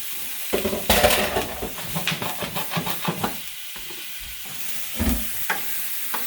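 Onions hit a smoking-hot pan of butter and sizzle steadily, with scraping stirs and clanks of a utensil against the pan close by, no one talking.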